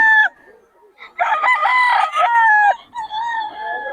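A young rooster (stag) crows close and loud in a bustling market setting, a raspy drawn-out call with shorter crowing phrases, a voice faintly present.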